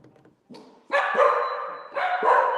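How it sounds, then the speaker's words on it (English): Dogs bark loudly and close by in two bursts of overlapping barks after a few quieter yips, with a sharp, excited edge. "Why y'all barking?"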